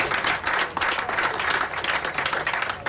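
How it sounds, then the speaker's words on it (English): Steady applause from a crowd, dense and continuous clapping throughout at a fairly even level. "If you can give them a round of applause"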